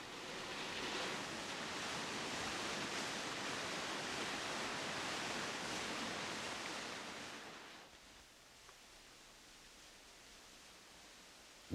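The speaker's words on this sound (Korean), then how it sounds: "여기에서 우리가 만날 수 있었던 것은 장백폭포였다" Changbai waterfall on Baekdu Mountain pours with a dense, steady roar for several seconds, then the rushing drops away sharply to near quiet, with no voices.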